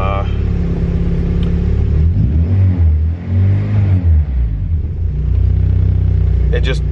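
Honda K24 naturally aspirated engine swapped into an EK hatchback, revving on a dyno during tuning; a loud, steady rumble climbs in pitch then drops and settles, with a voice talking over it.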